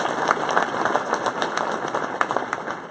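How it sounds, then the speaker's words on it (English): An audience at a school district education foundation awards event applauds a staff member of the year, with dense, steady clapping at moderate distance throughout. "Please give her a round of applause."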